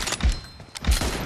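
Gunshots in PUBG Mobile, two loud booming reports about two thirds of a second apart, each with a heavy low thump, set against steady game background noise.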